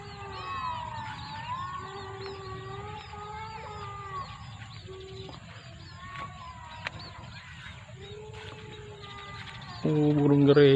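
Sparrows chirp busily in a kersen tree, a mix of house sparrows and other small finches, with many overlapping calls and a louder chatter at the end while a person talks.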